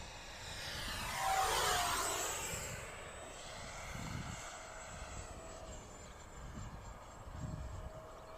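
A twin 64mm EDF model MiG-29 jet flies low past, its ducted-fan whine rising to a loud sweep overhead, then thinning into a steady distant hiss with light wind rumble.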